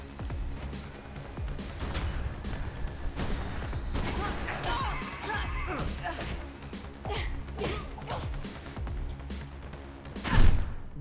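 Rapid bursts of gunfire in Mirror's Edge crackle over a busy background of game sounds and music, with a louder blast near the end.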